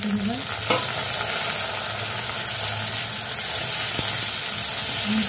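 Onion, garlic and chili fry in a pan for a mixed vegetable and fish head curry, making a loud, steady hiss of sizzling oil close by, with an occasional clink or scrape.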